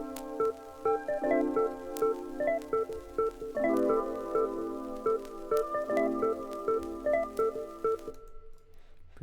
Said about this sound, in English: It's just the jazz guitar.